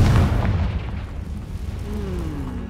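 A Confringo fire-blast spell explodes in Hogwarts Legacy combat: a single loud, deep boom at the start that rumbles and fades into a low tail.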